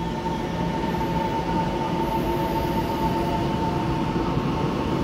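An EMU710 electric multiple unit local train, coupled with an EMU709, runs on the mountain line in Taiwan, giving a steady, loud rumble of wheels and rail noise with a faint humming tone throughout, no voices.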